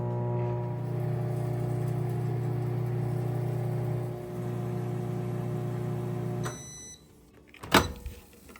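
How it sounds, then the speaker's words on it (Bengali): A microwave oven runs with a steady electric hum while cooking mixed vegetables. The hum stops, and a short sharp click or clatter follows near the end. "এবার আমি এটিকে মাইক্রোওয়েভ করে নেব"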